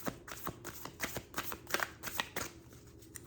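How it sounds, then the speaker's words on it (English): A deck of Seasons of the Witch Samhain oracle cards gets a hand shuffle close up, giving a steady run of crisp card slaps and riffles about every quarter to half second, soft overall, with no one talking. "I'm gonna try to shuffle out 12 cards."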